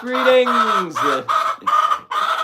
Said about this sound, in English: Oh my goodness, this chicken is so loud.